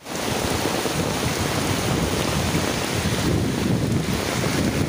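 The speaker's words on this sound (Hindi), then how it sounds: "तो देखो इधर चेन्नई में आज का बारिश, इतना ज़्यादा बारिश आया।" Heavy cyclone rain and strong wind lash Chennai, India, as a steady, loud roar of downpour and gusts buffets the microphone without pause. No one speaks.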